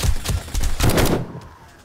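Automatic turret fire in the zombie survival game 7 Days To Die: a quick, loud string of rattling shots in close bursts for about a second, then a fading tail.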